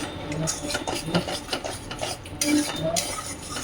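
Masala being stirred with whisked yogurt in a pan, heard as close, rhythmic scraping and rubbing of a spoon against the pan with a few light metallic clinks.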